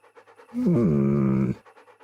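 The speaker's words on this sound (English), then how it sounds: "There's the good doggy." A dog in Kingdom Come: Deliverance pants in quick, close breaths, with a brief voiced whine in the middle.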